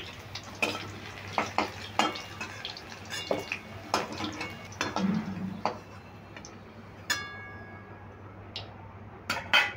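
Fried potatoes being scooped out of hot oil and set onto a metal plate, with scraping and clinking over a steady sizzle and a few sharp taps of utensil on metal.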